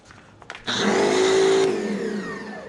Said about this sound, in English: Let's go ahead and detach the nozzle and throw in the pressure washer.